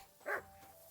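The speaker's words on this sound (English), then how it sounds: "Why are you barking?" A dog barks once in Kingdom Come: Deliverance 2, a single short, fairly loud yap over quiet game ambience.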